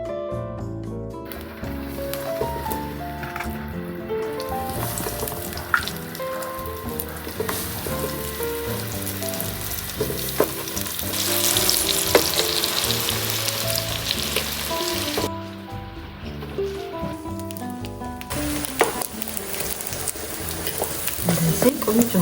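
A rice and flour mixture fries in a hot pan with a continuous crackling sizzle, heard under background music.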